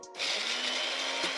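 A kitchen mixer grinds chillies with tamarind water and salt for a chutney. The motor starts up with a rising, steady, high-pitched whirring buzz and runs close and loud for the rest of the moment, with no talking.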